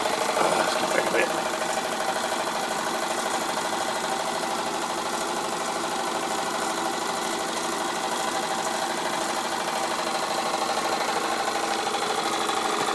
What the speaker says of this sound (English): Very, very nice engine. Wilesco do make some nice engines.